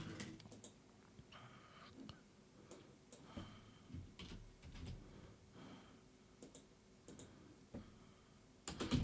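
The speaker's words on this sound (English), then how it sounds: "Now I'll type in the details of my trip." Quiet keys clicking on a computer keyboard in irregular bursts of taps with short pauses, close and faint, with no talk over them.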